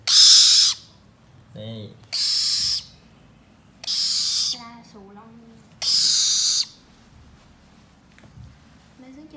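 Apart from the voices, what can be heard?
pet bird calling while playing with Bonnie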